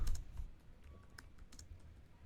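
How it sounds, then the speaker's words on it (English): Typing on a computer keyboard, a quick uneven run of light clicking keystrokes that carries on steadily, close and clear, with no talking. "Right, so I typed that in there"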